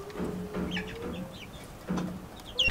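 Soft clucks and low murmuring calls from a flock of Leghorn and Rhode Island Red chickens, close by, with a thin sustained tone and a brief higher chirp near the end, no speech.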